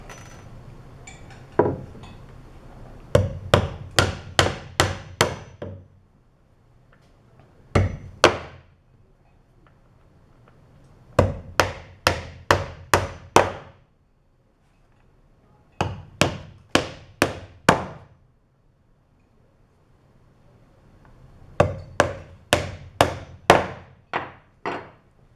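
Nails are hammered into a wooden trebuchet frame in clusters of sharp, ringing blows, usually four to six quick strikes per burst, separated by short quiet pauses, near and loud, with no talking.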